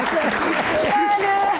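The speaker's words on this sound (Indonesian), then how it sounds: "Oke, tepuk tangan buat Gian." Audience applause for a participant named Gian at a Q&A session, a short burst of clapping mixed with voices and a tonal whine, with talk running over it.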